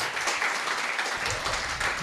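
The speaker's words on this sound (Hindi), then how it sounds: "ताली बजाना तो बजाओ।" An audience at a religious gathering claps, a brief, dense patter of applause at moderate volume.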